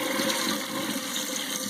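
Warm water runs steadily from a tap while silk fabric is rinsed, a continuous close hiss and splash at even loudness with no talking.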